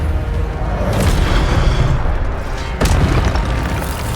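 Incendio fire spell cast in the video game Hogwarts Legacy, with a loud whooshing burst of flame rising over a dense, rumbling game soundscape and a second burst near the end.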